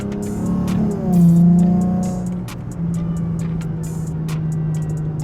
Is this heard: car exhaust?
yes